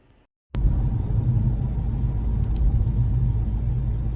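A car driving on a road in Northern Ireland, heard from inside the cabin, cuts in after a brief near-silence as a loud, steady low engine and road rumble.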